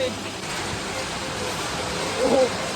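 Heavy rain pours steadily outdoors, a dense constant wash of noise with a short louder burst near the end.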